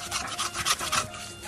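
A utensil scrapes burnt, browned rice from the inside of a cooking pot in a series of short, rhythmic rasping strokes, close and fairly quiet, with no talking.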